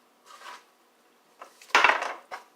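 A knife cuts into a flaky brisket pot pie with a few crisp scrapes and crackles against the crust and dish. A brief loud crunch in the middle is followed by softer scraping.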